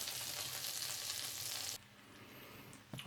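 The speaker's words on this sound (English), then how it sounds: "Alright, the onions are in the pan here." Onions fry in melted butter in a pan, a loud close sizzle and hiss that drops suddenly to a quieter crackle partway through, followed by a brief clatter, with no voices.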